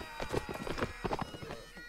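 Horse hooves in the video game Mount and Blade: Napoleonic Wars clip-clop in a quick, steady rhythm, moderately close, with faint background ambience.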